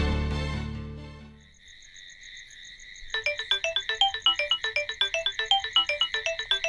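A mobile phone ringtone in a Bengali-dubbed action romance film plays a fast, bright, repeating electronic melody in rapid pulses after a short lead-in of music and a pause.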